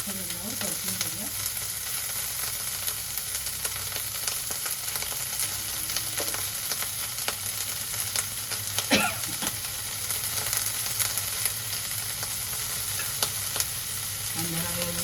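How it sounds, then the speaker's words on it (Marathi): Onions sautéing in a pan for a moong sprouts pulao, a steady broad sizzle with occasional stirring scrapes, close and continuous throughout. "छान लालसर रंगावर परतून घेऊया."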